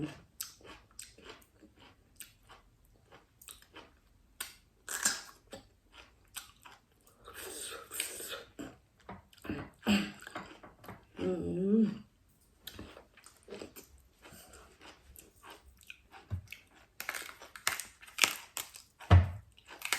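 Close, wet chewing and crunching of raw fresh beef liver, with irregular bites and squishy mouth sounds scattered across the clip and brief louder bursts of mastication.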